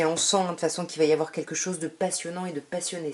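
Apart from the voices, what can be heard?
None of the usual background noises is heard.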